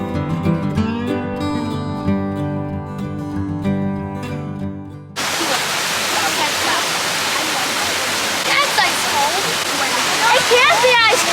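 Grotto Falls in the Smoky Mountains pours with a steady, full roar of cascading water that starts abruptly after a few seconds of sustained tonal sound, with faint voices mixed into the rushing noise.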